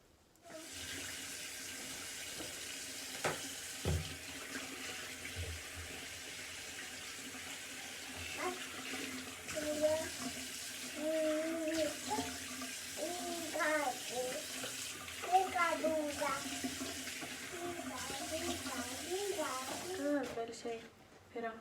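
Tap water runs steadily into a sink during face washing, a continuous splashing hiss with shifting gurgles as hands move through the stream, while a voice murmurs and hums over it.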